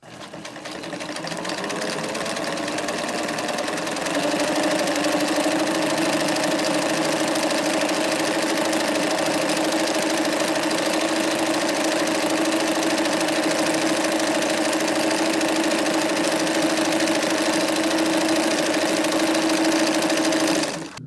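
A Singer Bobina Mágica 268 sewing machine runs a zigzag test stitch at the 1 mm setting, a steady loud mechanical hum with a rapid, even needle rhythm that holds without a break for about twenty seconds.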